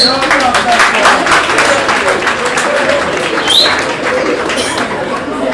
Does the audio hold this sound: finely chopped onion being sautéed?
no